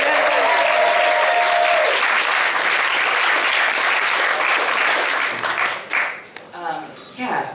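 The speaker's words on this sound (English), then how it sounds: "Let's give them a big round of applause." Loud, sustained applause from a packed room of concertgoers at a comic convention show, steady dense clapping that fades out near the end.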